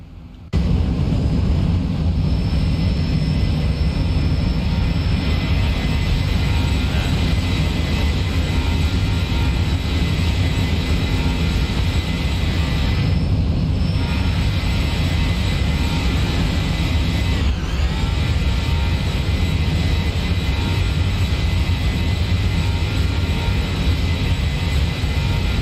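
Steady, loud jet engine roar of a Zibo Boeing 737-800 in the X-Plane flight simulator, a continuous broadband drone with a brief dip partway through and no voices.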